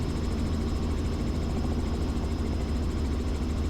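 Robinson R44 helicopter in flight, a continuous loud engine drone with rapid rotor thumping heard from inside the cabin, steady and unbroken with no talk.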